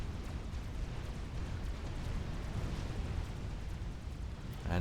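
Continuous rumbling barrage of TAC missile explosions in a Supreme Commander 2v2 match on Zerg Canyon, a dense, steady low roar of overlapping blasts with no pauses.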